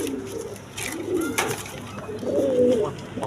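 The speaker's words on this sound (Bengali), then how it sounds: "দর্শক এখানে এক পেয়ার কবুতর আছে দেখেন গররা কবুতর ব্ল্যাক কালারের মধ্যে কলসি গলা" A pair of black Gorra pigeons with pitcher-shaped necks coo close by, giving several soft low throaty coos in a row, with faint background noise and no voices.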